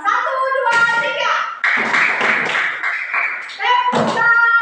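A class of children clap their hands together in unison, with bursts of close, loud clapping broken by brief pauses and the voices of kids chanting along.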